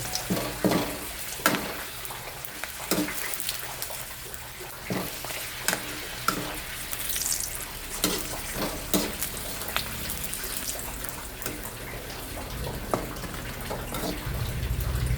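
A steady, close sizzle of papadum frying in hot oil, broken by sharp crackles and spatters, runs throughout, with occasional speech and a swell of bubbling at the end.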